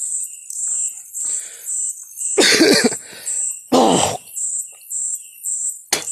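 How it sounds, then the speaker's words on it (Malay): Two hard, close coughs, the second shorter, break through a steady pulsing background of chirping insects in an old oil palm plantation. "masih batuk ini"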